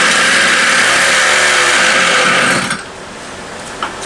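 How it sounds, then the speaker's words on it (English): A BladeZ Moby X gas scooter engine revs hard under throttle, a loud buzzing whine for nearly three seconds that then drops abruptly to a quiet idle. "let's give it some throttle."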